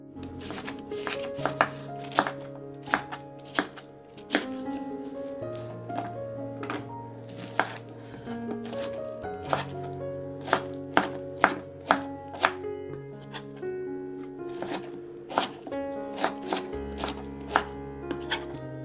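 A knife chops peeled pineapple into pieces on a cutting board, with close, crisp irregular thunks arriving in quick bursts and short pauses between them, over a faint background hum.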